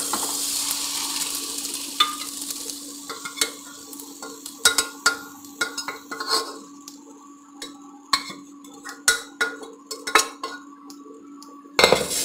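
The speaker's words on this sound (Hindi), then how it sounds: "तो ये देखिए मसाला भून चुका है, तो अब मैं इसमें डाल देती हूँ ये बॉइल हुए मटर।" Boiled peas stirred into fried masala in a pot, a faint steady sizzle beneath repeated sharp clinks and scrapes of a spoon against the metal pot.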